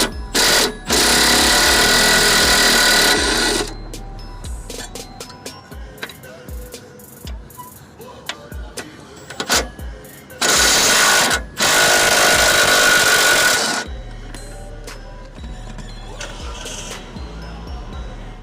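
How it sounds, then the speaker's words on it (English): A 13mm deep socket turns shock absorber nuts on a 1993-98 Jeep Grand Cherokee while a 13mm wrench holds the bolt. Two long, loud whirring bursts are separated by a stretch of sharp ticks and clicks. "I'm using a 13mm wrench to hold the bolt still while I use a 13mm deep socket to loosen the"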